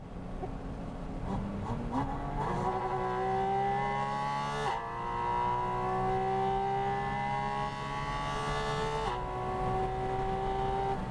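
A Porsche engine revs loudly and steadily, its pitch climbing in stages with brief dips as the throttle blips, sustained and close throughout.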